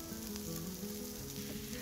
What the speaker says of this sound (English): Add the red onion and sliced peppers and let sizzle together for a few minutes.